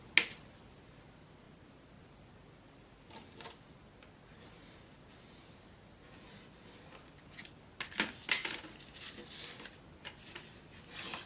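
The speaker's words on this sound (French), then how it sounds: "on va venir marquer le pli également" Paper being creased along a fold for a handmade mini album page, mostly quiet handling and then a cluster of crisp rubbing and pressing sounds near the end, close and fairly faint.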